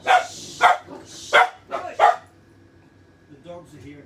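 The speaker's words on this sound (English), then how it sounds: "The dogs are here and barking." Dogs barking at a South Australian Riesling wine tasting, about five sharp barks in quick succession over the first two seconds, fairly close, followed by quieter room sound with soft voices.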